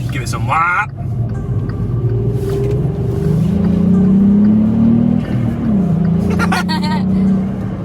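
A lowered VW Golf GTI on Eibach springs revs its engine, a loud close rumbling drone that climbs in pitch and then falls back, with brief talking at the start and near the end.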